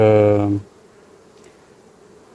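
Honey bees on a brood frame during a varroa mite check of a colony give a loud, dense harmonic buzz for about half a second, then cut off abruptly to near silence.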